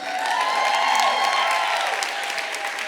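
An audience at a spotlight conversation event breaks into applause, a dense sustained clapping from a large crowd heard loud and even for a few seconds.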